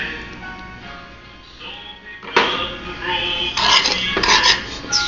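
Cookie batter with added milk stirred in a bowl for boiled cookies, a utensil scraping and clinking against the bowl close up, getting louder and busier toward the end.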